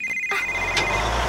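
A cartoon phone rings in a short electronic burst with a steady tone, fairly close and clear over a soft background.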